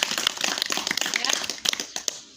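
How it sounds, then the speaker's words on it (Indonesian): Classroom applause as pupils clap their hands, a quick burst of sharp, uneven claps close by with a brief voice over them. "Tepuk tangan dulu untuk kita hari ini"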